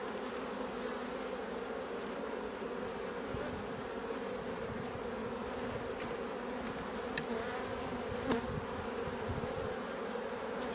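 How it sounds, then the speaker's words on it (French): Dense crowd of honeybees buzzing over an open beehive during a frame inspection, a steady continuous hum close by with no talking. "On peut voir la population est quand même assez importante. Beaucoup d'abeilles."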